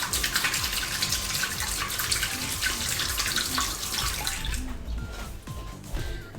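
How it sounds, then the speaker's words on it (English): Hands washed under a running kitchen tap, a steady loud rush of water with splashing that thins out near the end. "now what I do, just wash my hands"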